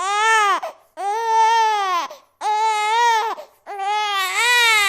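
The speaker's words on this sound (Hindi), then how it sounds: "बबुआ रो रहा है" An infant cries loudly and close, in four long wailing bursts separated by short gasping pauses, with no other sounds.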